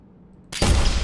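A single gunshot in Unreal Engine 5.5 with tiled bathroom reverb, an abrupt loud crack out of near silence with a short, bright, boomy reflection trailing after it.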